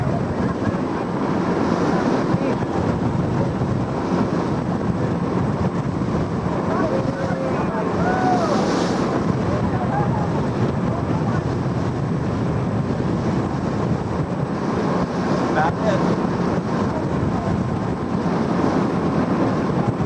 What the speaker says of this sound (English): We're going to be coming upon those waves in right about now